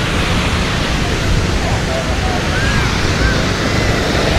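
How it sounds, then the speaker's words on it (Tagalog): Strong ocean waves roll onto the beach at Boracay in a loud, constant roar, with wind buffeting the microphone and no pauses. A voice may be faintly present beneath the surf. "Nilakas yung alon."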